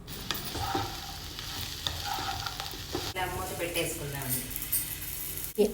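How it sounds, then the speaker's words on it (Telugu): Pieces of spiny gourd fry with turmeric and salt in a pan with onions and curry leaves, a close, steady sizzle with stirring scrapes while someone talks over it. "ఆకాకరకాయ ముక్కలను వేసుకొని వేపుకుంటున్నాను"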